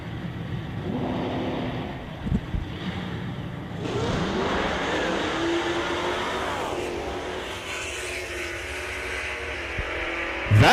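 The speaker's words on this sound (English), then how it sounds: "That was Charles Barber, the right-hand side, going 619 at 116 miles an hour in the white Hellcat." White Dodge Hellcat launching down the drag strip, a loud roaring engine that swells and pulls away, steady and alone, with a distant crowd wash behind it.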